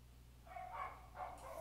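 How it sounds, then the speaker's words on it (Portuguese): A couple of faint, distant dog barks in quick succession over a low background hum. "Tô ouvindo os cachorros no fundo."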